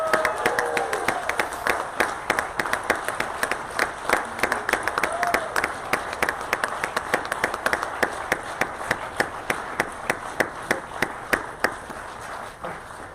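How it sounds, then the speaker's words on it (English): An audience at an 8th grade promotion ceremony applauds, with dense clapping at first thinning into a steadier, sparser run of individual claps that fade by the end. "Following one more well-deserved round of applause"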